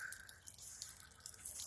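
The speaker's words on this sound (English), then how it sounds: "That's just the water leaking out of the bed." Water dripping and trickling out of the bed of a black pickup truck, a steady patter of small splashes close by, running continuously over a low idling engine hum.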